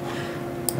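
A single short, sharp computer mouse click sounds near the end over a faint low background hum.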